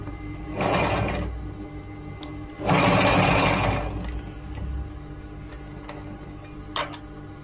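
A sewing machine stitches a men's robe in two steady bursts of rapid mechanical whirring, the second longer, each followed by quieter ticking and handling sounds, close by with no speech.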